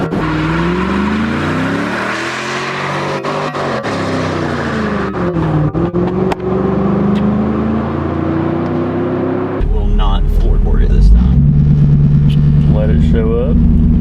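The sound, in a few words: Chevrolet Camaro Z28 doing a tire-spinning burnout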